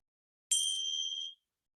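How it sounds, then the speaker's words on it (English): A single bright bell strike closes a yoga relaxation, ringing clear and alone before decaying smoothly over most of a second into silence. "the bell marks the end of the relaxation"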